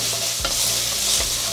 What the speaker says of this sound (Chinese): 快速翻炒。